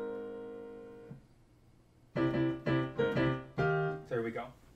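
Opening melody of the Super Mario theme, played down a step and voiced in full Mario-style chords, follows a sustained held chord that fades; a series of bright, loud, separate chord hits forms the tune, with no talking.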